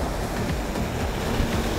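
Surf rolling in at Cupecoy Beach, a steady broadband wash of ocean waves with soft wind noise, continuous and moderately loud, no voices.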